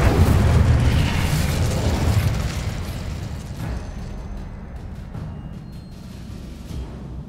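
An Incendio fire spell goes off in the Hogwarts Legacy video game: a loud, broad roaring blast that slowly fades into a rumbling, crackling tail over several seconds.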